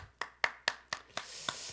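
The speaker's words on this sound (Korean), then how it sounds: "우리 하나님께 영광의 박수를 올려드립시다." Six sharp, evenly spaced hand claps in a quiet church room during a youth worship service, close and fairly faint, with no talking.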